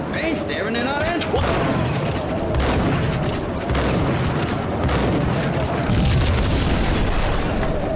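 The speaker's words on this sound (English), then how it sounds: "Oh my god, there's so many explosions." Explosions from the video game Max Payne erupt one after another in a loud, dense barrage of booms and crackling debris that runs without a break, with voices faintly underneath.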